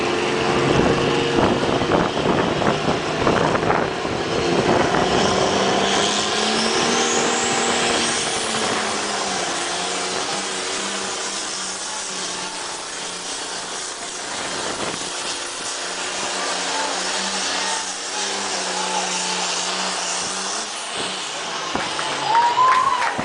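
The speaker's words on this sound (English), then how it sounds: "Real nice run for that tractor." Loud, sustained engine roar from a pulling tractor during a tractor pull run at an outdoor competition, droning steadily throughout with crowd noise and announcer talk mixed in.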